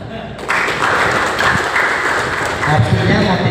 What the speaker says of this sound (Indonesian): Kita kasih tepuk tangan.